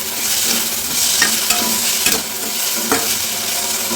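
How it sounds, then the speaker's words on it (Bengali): Food frying in a pan with turmeric and salt, a bright steady sizzle broken by several sharp scrapes and knocks of a spoon stirring, close and without speech. "এটা একটু ভাজা হোক"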